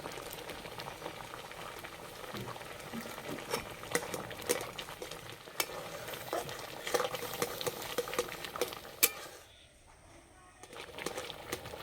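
Milk halwa simmering in a pan as raisins go in and are stirred, with a steady bubbling, scraping texture that carries for several seconds before briefly dropping away near the end.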